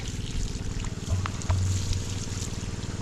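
A small Honda GX water pump engine runs steadily with a low, rumbling drone and whirring hum, close by and constant throughout.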